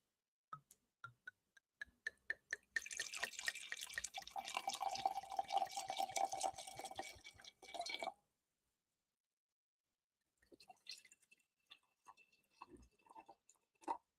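Abrillante Verdejo white wine poured into a glass outdoors by a creek: a few drips, then a several-second gurgling, trickling stream of liquid, close and soft, followed by silence and some faint clinks and small handling sounds.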